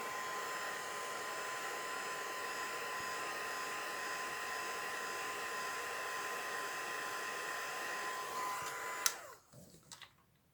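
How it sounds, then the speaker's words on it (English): A hair dryer blows steadily and close up for about nine seconds while drying an alcohol ink painting, then cuts off, leaving a few faint clicks and handling sounds. "dry it from around the outside again"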